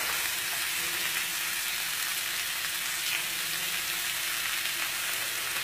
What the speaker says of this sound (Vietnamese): Cho cà chua vào xào lại.